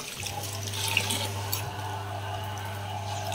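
Water runs steadily from a household tap, a constant close splashing stream with a low hum beneath it.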